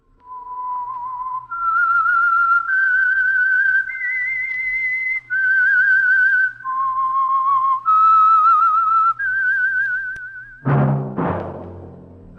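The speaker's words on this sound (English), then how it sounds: "That whistle is your signal for the Signal Oil Program" A solo whistled melody of sustained, clear notes stepping up and down, the radio theme of The Whistler, ending in a brief burst of orchestral music.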